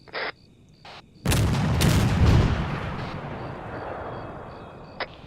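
A large explosion in the Arma 3 military game erupts with a sudden deep boom and rumbling roar that slowly decays, preceded by short electronic beeps and followed by another brief beep.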